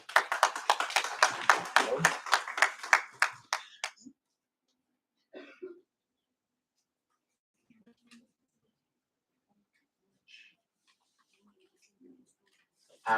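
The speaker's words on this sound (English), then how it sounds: "Let's just give everyone a round of applause." During hackathon team presentations, a small group claps in a quick, even rhythm for about four seconds, then the applause stops abruptly, leaving near silence broken by a few faint scattered noises.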